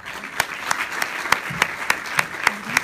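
Applause for the sponsors at a charity fashion show, heard as a soft crowd wash punctuated by a steady, evenly spaced series of sharp claps, close and rhythmic.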